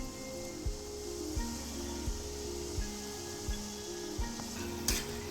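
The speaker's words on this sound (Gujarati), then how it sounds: "હવે આવી રીતે આપણે એક એક કરીને તળી લઈશું." Oil sizzles and crackles softly as maida sticks fry one by one on a low gas flame, with regular faint taps of a utensil about every half-second and no talking.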